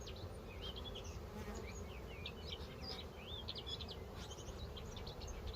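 Dense, continuous buzzing of many bees, close and steady, with faint high chirps scattered over it.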